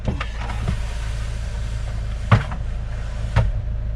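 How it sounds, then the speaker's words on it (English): A van engine idles steadily to run the heater on a cold day, a constant low rumble with a couple of sharp knocks or clunks nearby. "I've got the van running for the heater"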